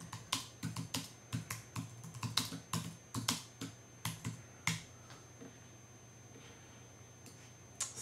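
Quick, irregular keystrokes clack close up on an Intel iMac keyboard as a document is typed, a steady burst of taps that thins out and stops near the end, with a faint background hum.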